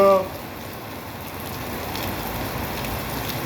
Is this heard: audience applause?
no